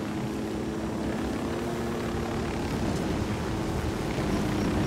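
Helicopter in the video game Ghost Recon Wildlands, a steady loud rotor and engine drone that holds throughout without a break.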